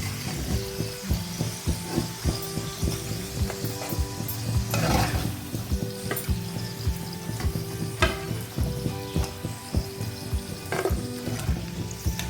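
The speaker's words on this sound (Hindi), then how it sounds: "इसी तरह से हम बाकी के भी भिंडी फ्राई कर लेंगे।" Okra slices crisp-fry in hot oil in a pan over a medium flame, giving a loud, steady crackling sizzle with frequent stirring clatters and scrapes throughout, no voices.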